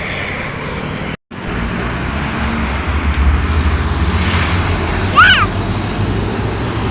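Convoy of large, long trucks carrying pipes passing on a highway, a continuous loud roar of heavy traffic with a brief dropout early on and a swell as vehicles go by close.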